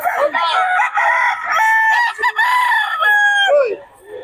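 A black hen and rooster at close range give loud, repeated clucks and drawn-out crowing calls, one after another with brief gaps between them.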